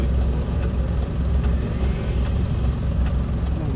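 A Honda Click motorcycle engine runs with a steady, low rumble. The sound holds continuously throughout at a moderate, unbroken level, with no voices.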